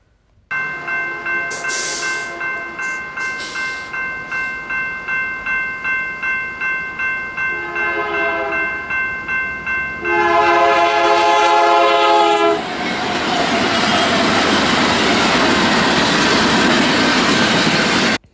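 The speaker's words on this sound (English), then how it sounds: "I like the sound of the horn in high speed mode" A passing train at high speed sounds its horn in a rapid run of short blasts, then holds a long blast over loud rumbling and rushing wheel noise.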